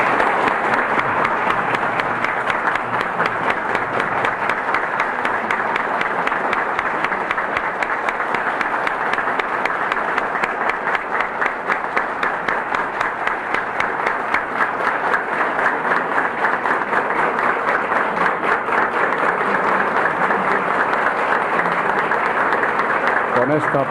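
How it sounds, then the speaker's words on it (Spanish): Long, sustained applause from those gathered in the music hall of the National Library at a marathon reading of Juan Bosch's stories, dense, even clapping held at a steady loud level throughout, with a murmur of voices underneath. "que le llegue hasta allá el aplauso de los presentes"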